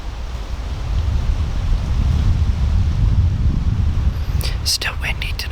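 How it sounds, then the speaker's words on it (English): Steady low rumbling wind buffets the microphone outdoors at night during a bow hunt, with a few brief sharp clicks near the end. "Still windy tonight."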